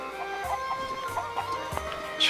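Chickens in the village of Zelda: Breath of the Wild cluck in short, soft bursts, several of them scattered over a quiet, steady background tone of game sound.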